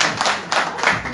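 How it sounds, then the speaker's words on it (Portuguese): An audience at a Guinea-Bissau football federation ceremony applauds in a short burst, with a few rhythmic waves of close hand claps. "Mais palmas, merece."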